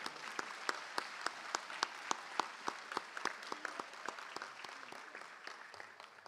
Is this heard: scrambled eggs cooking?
no